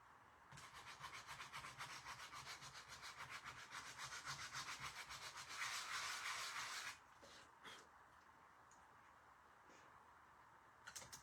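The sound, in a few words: sanding edges of a witch broom craft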